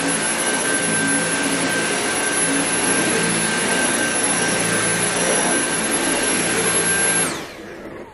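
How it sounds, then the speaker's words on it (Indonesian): A household vacuum cleaner runs at a steady, loud, close whine with a constant high tone, then cuts off and winds down near the end; no talking. "vacuum kayak ini"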